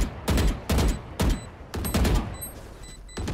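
Several loud bursts of rapid gunfire in the Valorant video game, separated by short gaps, with no voices heard.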